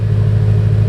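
BMW E92 M3 idling through a custom exhaust: a brief, close, steady low rumble with a deep, even burble and no revving.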